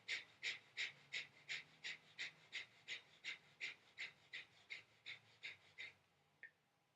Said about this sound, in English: And you do a breath of fire,